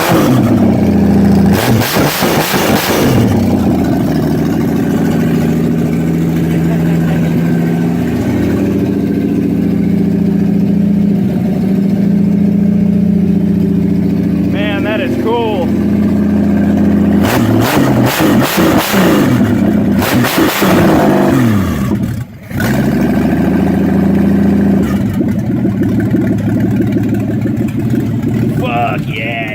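A 1966 Ford 200 straight-six engine with an Autolite carburetor idles steadily and loudly up close, with a brief rev and someone talking excitedly over the rumble.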